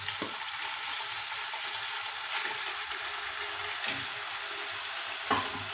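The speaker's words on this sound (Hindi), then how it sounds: "चिकन को मैंने पहले फ्राई करना है। ऑयल हमारा अच्छी तरह गर्म हो गया है, तो अब हम इसमें चिकन शामिल करेंगे।" Chicken for a Lahori-style karahi fries in well-heated oil in a karahi, giving a close, constant sizzle with a few small pops and stirring knocks breaking through.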